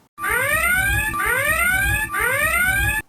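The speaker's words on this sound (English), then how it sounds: "the alarm from Star Trek" Star Trek's red alert alarm sounds three times, each a loud, rising electronic whoop repeating in an even rhythm with no talk.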